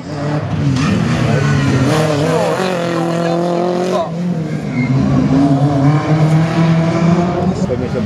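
A race car on the 2018 Saint-Lô slalom course, its engine revving loudly and steadily, pitch rising and falling through the gates, with a voice talking over it throughout.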